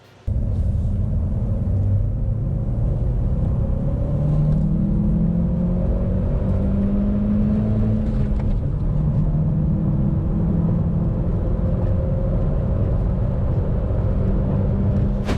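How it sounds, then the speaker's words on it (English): A used Vauxhall Astra with a naturally aspirated 100 hp engine accelerates from 30 to 70 mph. It starts with a sudden loud onset, then a steady droning engine note whose pitch rises and drops through the gear changes, heard alone. "Will a naturally aspirated 100 horsepower engine be enough to really push this thing down the road?"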